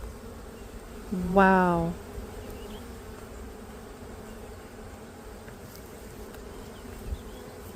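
A brief, loud buzzing of honey bees around a hive box swells near the microphone for under a second, then fades into a low ambient hum with a short exclamation.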